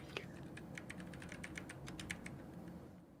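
Rapid clicking of keys on a computer keyboard, about a dozen quick strokes in an uneven burst, close and fairly quiet over a low background hum.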